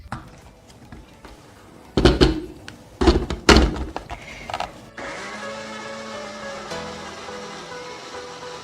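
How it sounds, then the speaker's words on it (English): A kitchen blender mixing flourless, sugar-free cake batter with baking powder: a few sharp knocks and clatters, then the motor starts and runs with a steady whirring drone to the end. "I'm going to blend this so it gets well mixed"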